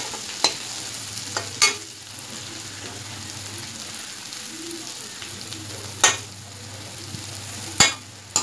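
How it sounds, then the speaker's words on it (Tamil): Bitter gourd sautéing in a pan over a low flame, a soft steady sizzle running throughout with a few sharp clinks of a spoon against the pan. "கொஞ்ச நேரம் அப்படியே சிம்ல வச்சு வதக்கணும்."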